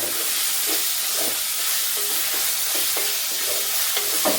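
Small onions with salt sizzling in a pan for a mutton curry in a Kottayam home kitchen, a steady close hiss of frying with soft stirring scrapes, no talk.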